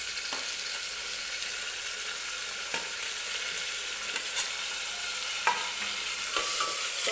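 Chopped tomato fries in oil for dal khichdi, a steady close sizzle broken by occasional sharp clicks and scrapes of a spoon stirring against the pan, with no one talking.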